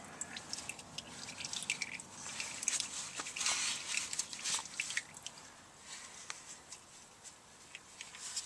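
Transfer case oil drips from the fill plug of a 2000 Ford F-350, a run of light, irregular drips and patters, close and fairly quiet, thinning out toward the end.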